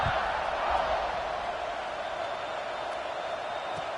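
Before kickoff of a BYU vs Alabama college football game, a large stadium crowd gives off a steady, dense roar that stays loud and unbroken throughout.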